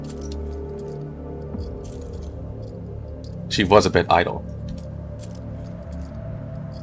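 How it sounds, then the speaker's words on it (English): Magnetic handcuffs clink against a floor in Girls' Frontline 2, a short cluster of crisp metallic jangles over a few seconds, near and fairly loud, with someone narrating before and after and quiet background music. "she swung the magnetic handcuffs on her wrists up and down, bumping them against the floor in front of her knees, making crisp, metallic clinking sounds"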